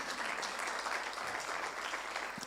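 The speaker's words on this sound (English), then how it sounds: "I think you need to give yourselves a round of applause." Participants at a symposium on constitutionalism and public debt in Africa fill the hall with steady applause, sustained and even but fairly faint and distant.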